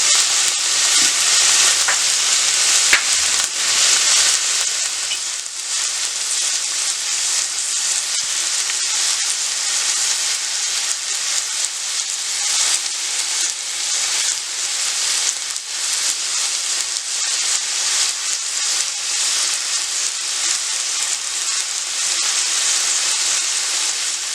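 Tomatoes cook in a pot for a Réunion-style bichique rougail, giving off a steady, loud hiss of sizzling and steam that runs unbroken throughout with no voices over it.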